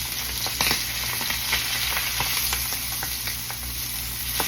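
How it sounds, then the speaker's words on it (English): Steak pan-searing in a hot skillet, a steady loud sizzle with crackling pops throughout and no talking. "give those a quick pan sear"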